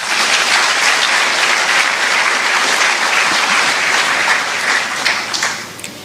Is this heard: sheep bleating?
no